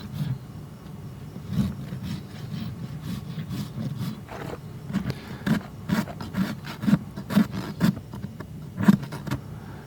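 A farrier's rasp scrapes across the hard hoof wall of a massive draft horse, rhythmic rubbing strokes repeating close by at an uneven pace, with faint background shuffling and no speech.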